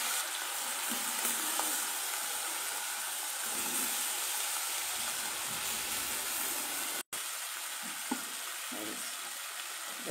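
Fish and other ingredients frying in hot oil in a wok, a loud, even sizzle and hiss held for about ten seconds with a few faint clinks and a brief cut partway through.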